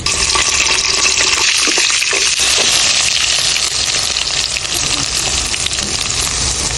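Onions dropped into hot oil for a beef curry, giving a loud, steady sizzle that hisses continuously and close up, with no talking.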